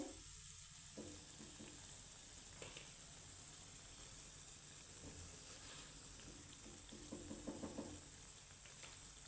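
A steady, soft sizzle of food frying in oil in a pan runs throughout, with occasional faint stirring scrapes and a brief louder crackle near the end.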